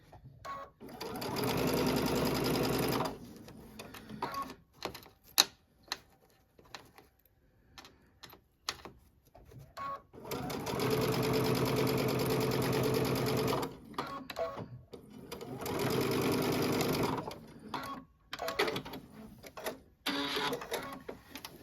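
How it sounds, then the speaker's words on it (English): A sewing machine bastes a long line along a zipper at a 2.5 stitch length, running in three sustained bursts of rapid whirring with quiet pauses and small clicks between them. "I'm just going to baste right along there, just doing a little basting line."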